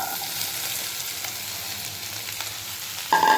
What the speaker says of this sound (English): fresh chili is put in the oil, gives a very good sound. Now you can hear the spluttering sound